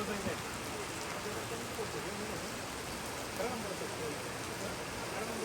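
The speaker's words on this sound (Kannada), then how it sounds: "ಸಿಕ್ಕಾಪಟ್ಟೆ ಮಳೆ ಅಂದರೆ ಮಳೆ ನೋಡಿ" Heavy rain pours down steadily outside a temple in Kolhapur, a dense continuous hiss of drops drumming on surfaces with no pauses, filling the whole scene at an even, loud level.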